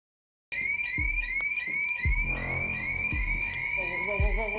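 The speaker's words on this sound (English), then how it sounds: "A loud alarm goes off on the 3rd floor" An electronic alarm sounds on the third floor of an abandoned building, a loud repeating high-pitched warble that runs continuously, with heavy thuds and knocks underneath and voices faintly mixed in.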